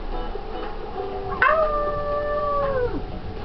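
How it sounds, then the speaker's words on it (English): A single drawn-out dog howl from The Dog Island video game, rising sharply and then holding a steady tone before sliding down, heard alone and clearly in the foreground. "A howl."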